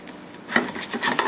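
French toast sizzles in a pan, a soft crackling hiss with a few louder spatters and light clinks of a utensil, fairly quiet and close.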